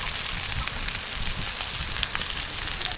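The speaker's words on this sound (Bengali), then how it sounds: "পনির টিক্কা ভাজা হয়ে গেছে।" Paneer tikka frying in a pan gives a loud, dense, even sizzle with fine popping crackles throughout, close and steady with no voices.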